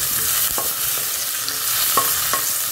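Potatoes frying in a pan with a little turmeric, an even close sizzle broken by a few distinct spatula scrapes and knocks, with no one speaking.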